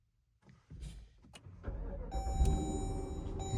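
A 2025 Dodge Durango R/T cranks and its engine catches, a few faint clicks giving way to a steady low idle with a thin electronic tone above, close and fairly quiet.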